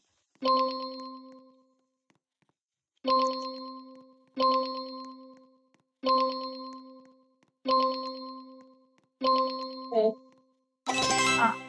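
Six bright chimes ring out one after another at fairly even intervals, a notification tone sent to every player in a Roblox summit climbing game. They end in a short rising flourish, then a burst of broadband noise.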